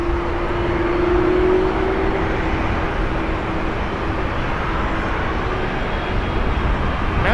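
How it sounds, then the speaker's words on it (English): An MD-11 jet airliner rumbles steadily and at a distance near Portland airport, a continuous broad engine roar with a faint droning tone running underneath. "I do hear an MD-11 coming around."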